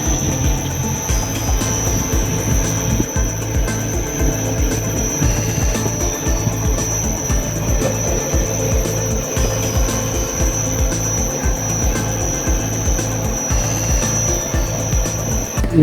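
A lift with a Monarch Nice 3000 controller runs in its machine room, giving a loud, steady mechanical drone with a constant high whine and rattling hum throughout.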